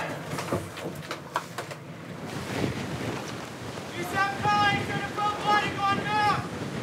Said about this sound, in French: Sur le pont, le vent est encore monté et souffle maintenant en rafale à plus de 60 km à l'heure.